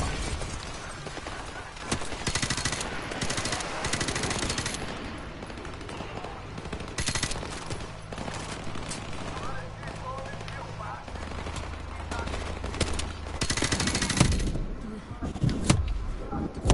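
Dense video-game gunfire in Call of Duty Modern Warfare Remastered, bursts of rapid shots and scattered impacts running throughout against busy background battle noise, with louder clusters near the end.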